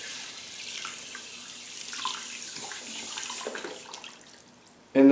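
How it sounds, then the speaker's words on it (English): Varmint 48 tanning powder pours into a pail of water, giving a steady rushing, fizzy wash of sound that stays even for several seconds before a sudden louder knock at the end. "first things first is dump the entire Varmint 48"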